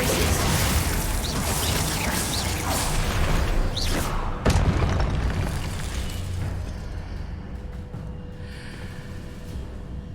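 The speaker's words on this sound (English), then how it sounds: "Hitting those marks readjusts the archways" Archway mechanism readjusting inside Hogwarts Legacy, a loud sustained rumbling grind with a sharp heavy clunk partway through, then fading to a quieter mechanical hum.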